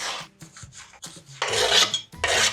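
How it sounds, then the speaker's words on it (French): A knife cuts tomatoes into small pieces on a board, with several short rasping slices followed by two longer, louder cutting strokes, close and without talk. "on prend nos tomates et pareil, on vient les découper en petits morceaux"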